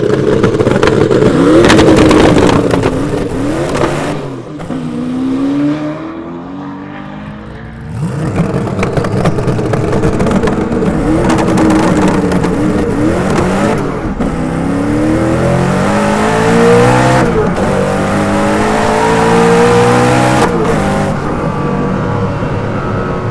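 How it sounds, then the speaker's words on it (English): A Hennessey Venom F5 hypercar on cold tires revs hard and accelerates through repeated rising gear pulls, loud and close, with brief dips between shifts and no talk. "The car is going to spin, but you'll see that we're just going to move out."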